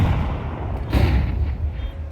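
A single muffled gunshot from a match in Counter-Strike at a major tournament, a dull booming thump over dense crowd and game background noise with no talk.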